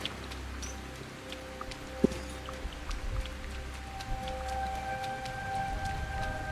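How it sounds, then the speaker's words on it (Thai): Rain falls in the video game Sengoku Dynasty as a soft, continuous hiss, with faint scattered drips and a low tonal hum, and no one talking. "ฝนตกอีก"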